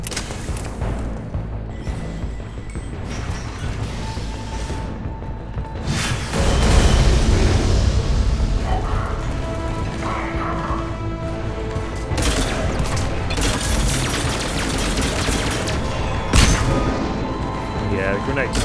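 Mass Effect 3 combat on Omega brings rapid, dense gunfire and grenade blasts, continuous throughout and swelling into a louder burst partway through.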